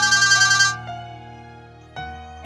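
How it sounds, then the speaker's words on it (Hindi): A phone ringtone plays in a film drama scene: a bright, repeating electronic melody that breaks off and then resumes as further tones start, with no voices. "इरफान का फोन है।"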